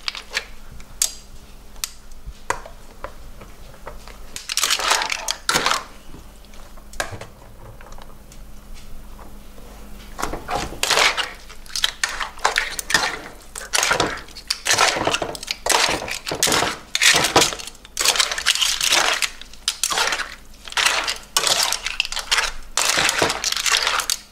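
Clam linguine being tossed and mixed in a pan, with bursts of wet clattering and scraping that come and go in irregular clusters, fairly loud and close, with no talk.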